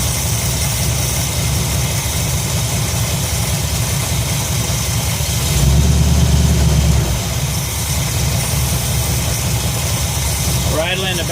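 A Ford 302 V8 idles steadily at about 625 rpm in an F100 truck, a close, continuous low rumble with a brief rise in revs midway through.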